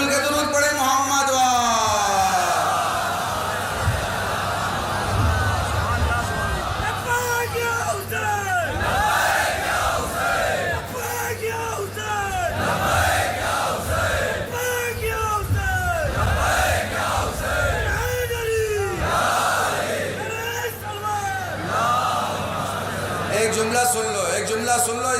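A large crowd at a Muharram Juloos-e-Aza procession in Kanpur recites salawat and chants a slogan in loud, rhythmic collective shouts, alternating with a male orator addressing the gathering over amplification.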